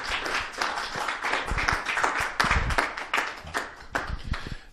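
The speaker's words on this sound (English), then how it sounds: "But round of applause for Jack Whelan." Small audience clapping for pool player Jack Whelan at an IPA Tour event in Bradford: distinct individual claps close by, irregular and sparse, rising and falling without a full roar.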